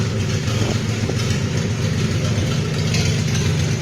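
A 1971 Datsun 240Z engine idles steadily at close range, a constant loud rumble with no revving and no voices.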